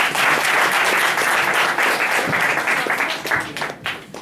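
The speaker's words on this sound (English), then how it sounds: "Small claps." An audience gives a round of small claps, a dense, steady patter of many hands that holds for several seconds and thins toward the end, fairly loud and close.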